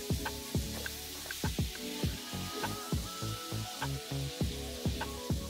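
Shrimp fry in a skillet for a one-pan jambalaya pasta, a close, steady sizzle broken by regular sharp pops and spatters at an even rhythm, with no talking.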